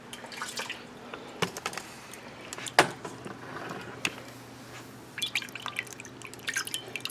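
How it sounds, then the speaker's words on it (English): Water drips and splashes onto a mud-caked gun sight being rinsed outdoors, scattered close trickles and taps with a couple of sharper splashes. "Yes, that is water. And all I'm doing, I'm just going to clean the mud off"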